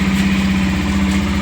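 A Bajaj Pulsar motorcycle engine idles steadily right after starting, a close, continuous low throb with an even pulsing rhythm and no talking over it.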